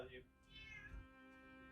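A trapped cat meows loudly and plaintively indoors, a drawn-out wavering cry up close, with a voice speaking over it.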